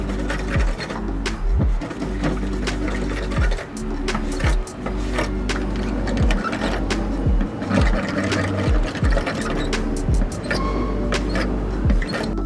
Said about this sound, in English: Now we will be taking a metallic brush to the Vicrez PPFs.